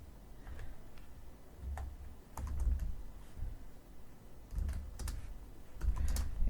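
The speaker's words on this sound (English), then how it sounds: "we can just keep typing and that will wrap to the box" Computer keyboard typing with bursts of crisp key clicks, close and fairly quiet, coming in uneven clusters while someone fills in a Word form.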